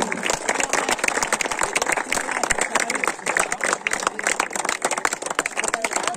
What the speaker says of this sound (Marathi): एकदा जोरात टाळ्या होऊन जातो या टीमसाठी